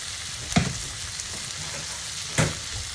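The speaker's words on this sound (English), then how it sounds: "Let's go ahead and give this a stir while we're here. This has got about another minute of sauteing" Andouille Creole sautéing in a pan with a constant close sizzle, punctuated by two sharp utensil knocks or scrapes as it gets stirred, no talk over it.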